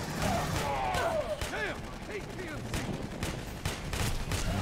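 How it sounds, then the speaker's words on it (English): An armored personnel carrier fires in Aliens: Colonial Marines, a quick volley of shots striking near the player, loud and close amid battle noise, with voices talking over it. "The APC shot you."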